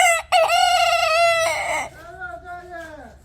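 A Silkie rooster crows up close, one long rising-and-falling call followed by a second, quieter drawn-out crow.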